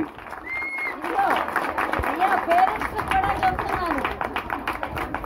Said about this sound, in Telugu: ఎక్కడండి చప్పట్లు మళ్ళీ ఆన్లైన్ ఆంటీకి